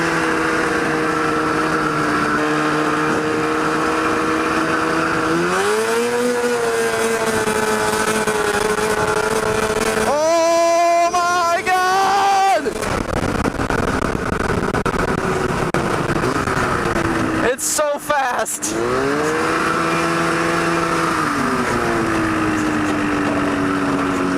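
A go-kart with a swapped-in snowmobile engine drives hard, its engine loud and close as it revs up and down in rising and falling whines with brief sharp bursts of high revving.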